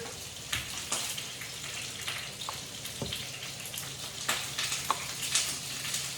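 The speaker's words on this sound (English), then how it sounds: "Now I want to toast and bloom out the almonds in the butter." Almonds toasting in melted butter over medium heat crackle and sizzle in a pan, with scattered sharp pops and spits over a steady frying hiss.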